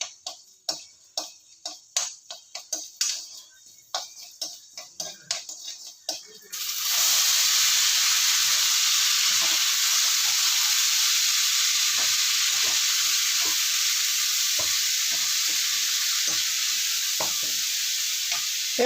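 Mustard seeds pop and crackle in hot oil with sharp, irregular bursts, then a loud steady sizzle takes over as chana dal and urad dal go into the pan, with a few faint pops continuing beneath.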